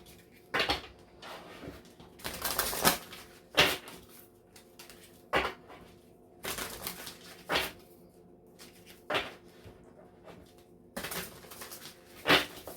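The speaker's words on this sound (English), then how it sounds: "Actually, let's give it a little bit of a shuffle." Intermittent soft slaps and rustles of cards being shuffled by hand, uneven bursts separated by short quiet gaps, close and fairly quiet.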